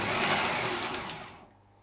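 A kitchen blender blitzes sage and onion stuffing ingredients in a loud, continuous whirring burst that holds steady and then winds down abruptly near the end.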